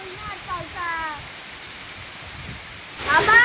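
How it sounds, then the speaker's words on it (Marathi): Heavy monsoon rain pours in Sindhudurg in the Konkan, a steady soft hiss of falling water, while a person speaks briefly near the start and a louder gust of rain rushes in at the end. "आणि एवढा पाऊस लागता बघा बघा एवढी झाडं हलतात"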